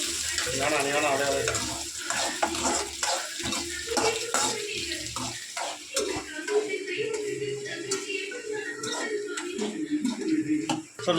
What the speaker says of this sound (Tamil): வெங்காயம் போட்டுக்கலாம். நல்லா வதக்கிக்கலாம்.